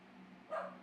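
A dog gives a single short bark, faint and brief, over a low steady hum.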